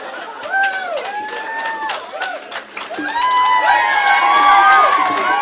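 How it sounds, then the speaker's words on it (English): An indoor audience at a Millstreet broadcast cheers and claps, with whoops and shouts over steady applause that swells louder toward the end; nobody speaks clearly. "great to get a cheer and a clap before we start"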